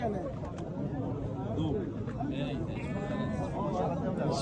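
Goats, including a nanny goat with her kid, bleat in short wavering cries amid a busy livestock bazaar crowd, with voices chattering throughout.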